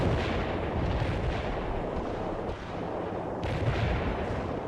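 Mortar artillery fire in the video game World in Conflict, with heavy rumbling booms and blasts rolling one into the next at a steady loud level, and no one speaking.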